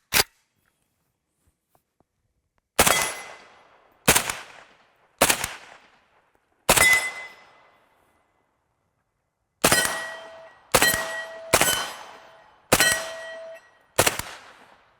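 Ten sharp, loud AK-47 rifle shots fired outdoors one at a time at uneven intervals, each with a short ringing decay, the later ones coming closer together.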